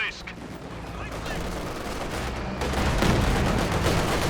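Light machine gun bursts in the strategy game Company of Heroes 2, layered with other gunfire and battle noise, a dense steady rattle that grows louder toward the end.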